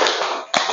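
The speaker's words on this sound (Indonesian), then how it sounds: "Tepuk cinta." Children in a classroom clap out the tepuk cinta group clapping pattern, a short burst of crisp, close claps in quick succession with a brief pause before a final sharp clap.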